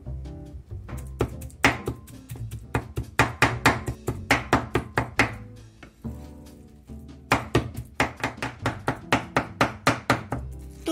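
Peeled shrimp minced into paste with rapid, steady knife chops on a board, a dense run of loud wooden thunks that pauses briefly midway before resuming.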